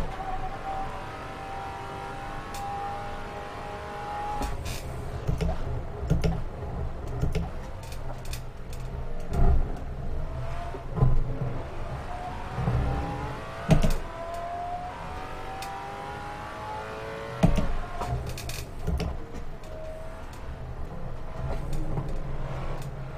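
Race car engine in a driving game at Monza, a Maserati Alfieri or Pagani Huayra BC, revving up through gears with rising whine, repeated shifts and braking dips, close and continuous with no talk.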